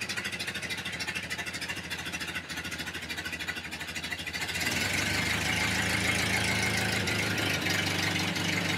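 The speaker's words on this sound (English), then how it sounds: "I'm gonna turn up the idle just a little bit." A 1931 Ford Model A pickup engine idling close by with a steady mechanical chug, then rising to a faster, louder idle as the throttle is nudged up partway through.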